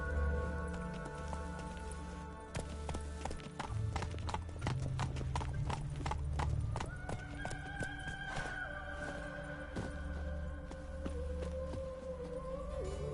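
Geralt's horse Roach trots in The Witcher, hooves clip-clopping in a steady, close rhythm over a bed of game music, with a brief whinny.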